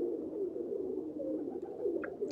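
Pigeons coo in the point-and-click game TKKG Die Feuerprobe, a soft continuous low warbling murmur with a faint higher chirp near the end.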